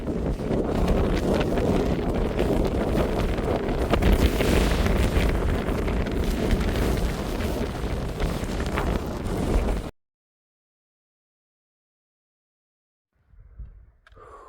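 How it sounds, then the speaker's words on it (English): Strong gusting wind on a mountain trail in the White Mountains pounds the microphone with a loud, steady roar for about ten seconds, then drops to near silence, leaving only a faint rustle at the end. "you gotta have really good footing with the wind"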